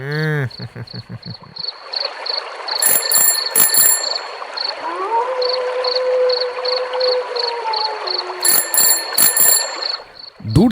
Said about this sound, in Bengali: একটা সাইকেলের বেলের আওয়াজ পাওয়া যাচ্ছে